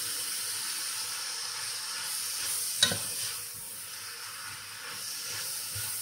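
Spaghetti being stirred in a pan over a steady hiss of steam and sizzling, with one sharp clink of a utensil midway, quiet and close.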